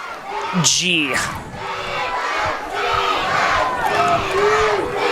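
High school football crowd at a Colby home game in the Marawood Conference roaring and cheering as fans get on their feet in the third quarter, a loud sustained crowd swell with shouts and yells throughout.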